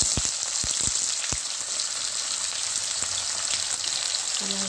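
Onion going into hot oil with five-spice (panch phoron) for aloo posto, a steady crackling sizzle with a few sharp pops early on, close and continuous, no speech.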